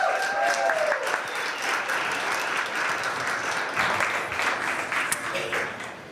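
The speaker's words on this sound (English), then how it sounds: "Round of applause." Warm audience applause at a sommelier competition in Estonia, greeting the final competitor, a sustained wash of clapping with a few voices and cheers mixed in.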